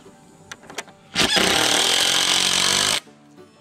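A power drill drives a screw into the wooden frame of a chicken tractor. A loud, steady whirring buzz runs for about two seconds, with a few soft knocks before it starts.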